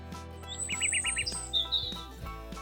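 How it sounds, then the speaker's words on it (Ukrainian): Birds chirping and trilling in quick high bursts in a spring forest, with a short run of repeated tweets over a faint woodland background. "Це голоси птахів. Вони теж радіють весні."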